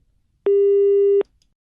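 A single steady busy-signal tone on a phone line after a call is hung up sounds for under a second, loud and clean against near silence.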